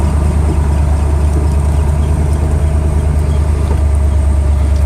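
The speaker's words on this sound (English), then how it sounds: "if you got a carburetor, you let it sit a while, idling" A 1978 El Camino's carbureted engine idles steadily and loudly nearby, a constant low rumble with a slightly uneven beat and no other sounds.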